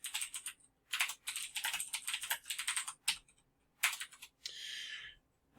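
Quick bursts of clacking keystrokes on a computer keyboard come in uneven clusters with short pauses between them, close and clear in a quiet room, ending in a longer hiss-like rattle.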